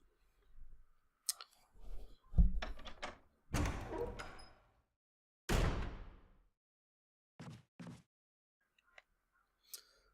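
Doors open and shut in Resident Evil HD Remaster: a run of clicks, thuds and sliding bangs in separate bursts, with quiet gaps between them and no voices.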